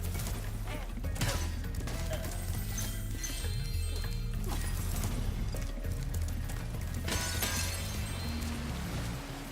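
Metal vases smashing in Spyro Reignited Trilogy, repeated clanging shatters and crunching breaks over busy game music and effects, loud and close.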